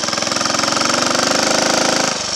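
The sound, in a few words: Triumph Tiger Cub motorcycle engine idling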